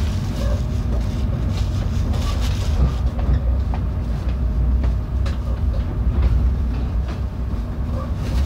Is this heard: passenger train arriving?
yes